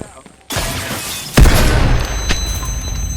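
A grenade explodes in a first-person shooter, a sudden loud boom after a quiet start, followed by a second heavy blast and ongoing rumbling gunfire noise.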